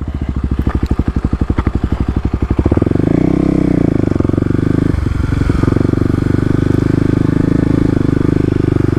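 A Kawasaki KLX250 dirt bike riding an off-road trail, its loud close engine chugging in rapid low pulses before settling into a steadier drone that rises and dips with the throttle.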